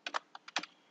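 Short burst of keystrokes on a computer keyboard, about six quick clicky taps in an uneven rhythm, close and fairly quiet with no talking.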